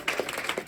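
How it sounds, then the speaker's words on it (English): Brief applause from a community meeting audience gathered in a conference room, a short patch of scattered hand claps at moderate loudness with no voices over it. "Give a round of applause"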